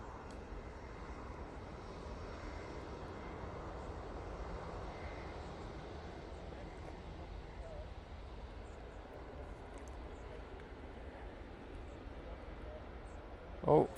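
An Emirates airliner at Manchester Airport gives off a low, continuous engine rumble, distant and even throughout, with a brief sharp sound right at the end. Faint speech sits beneath the drone.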